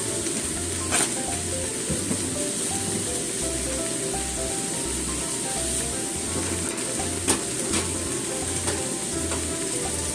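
Frozen minced garlic hits hot oil in a soup pot for a barley tomato soup and sizzles and crackles steadily, close and fairly soft, with occasional clinks of stirring.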